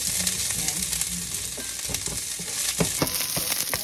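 Garlic and onion sauté together in a pan for a Filipino ginataang puso ng saging dish, giving a steady close sizzle broken by scraping stir strokes and utensil clicks.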